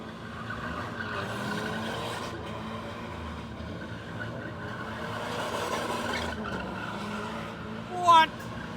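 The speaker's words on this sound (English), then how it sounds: "Burn those tires, man." A drifting car spinning its tires at the REV UP Motorshow 2024 at Adams Arcade, Nairobi: a sustained engine roar and tire noise with a sharp squeal near the end, under crowd chatter.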